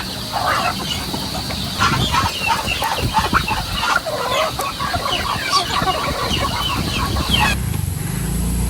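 Chickens cluck steadily at close range on a farm at feeding time, where crabs, fish and poultry are being fed, with a dense, continuous mix of overlapping clucks and calls, alone without speech.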